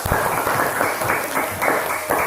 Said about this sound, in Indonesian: Tepuk tangan untuk kelompok singa